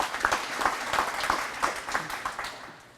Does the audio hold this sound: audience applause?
yes